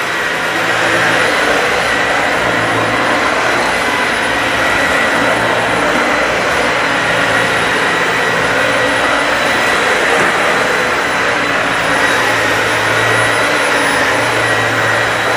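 Dyson Slim Ball vacuum cleaner deep cleaning carpet, a loud, steady, close roaring whir with a faint pulsing hum underneath, running continuously without talk.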